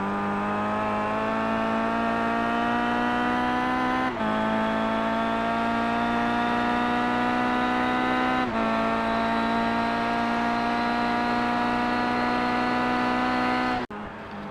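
Kia touring cars racing around Suzuka in the iRacing simulator give a loud, steady engine drone that rises through the gears, with upshifts at about 4 and 8.5 seconds and another near 14.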